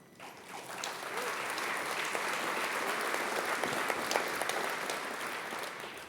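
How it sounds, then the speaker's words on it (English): A large audience applauds steadily for several seconds at the Maui County Mayor's State of the County Address, dense clapping swelling quickly and holding at a strong, even level. "Thank you for your applause."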